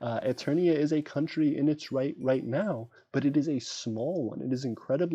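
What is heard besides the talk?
No everyday noises stand out.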